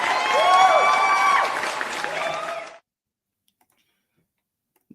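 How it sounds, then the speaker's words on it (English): Audience applause with scattered cheers and voices at a religious talk, a loud round of clapping for nearly three seconds that cuts off abruptly into silence. "he always gets the loudest applause"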